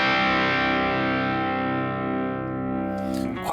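An electric guitar played through a ToneX amp capture with a Bud R Boost, a single sustained, mildly driven chord ringing out and slowly decaying, then a faint scrape of strings at the end.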